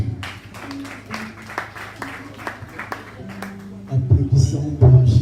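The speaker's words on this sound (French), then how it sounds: "Applaudissons pour Jésus-Christ." A church congregation claps in a quick, uneven rhythm, with the applause swelling and growing louder near the end while voices talk over it.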